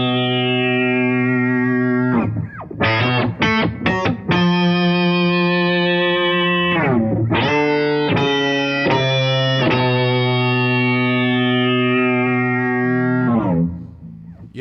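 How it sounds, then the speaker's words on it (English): Heavily distorted electric guitar through an Ultrawave multiband processor, a synth-like, filtered envelope-follower tone, sustained chords broken by choppy stabs and swelling notes, loud and alone. "It's almost got this envelope follower synthesizer kind of sound to it."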